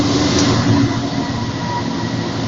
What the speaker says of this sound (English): just go and check there if that train's gone past